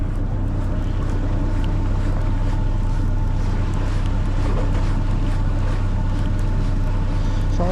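A fishing boat's engine runs steadily while out octopus fishing off Yeosu, a loud continuous low drone with wind buffeting the microphone throughout, no voices.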